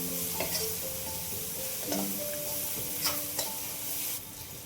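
Cumin, coriander powder, turmeric, garam masala and chillies sauté in a pan for green pav bhaji, giving a continuous close sizzle broken by occasional scraping stirs, with no voices.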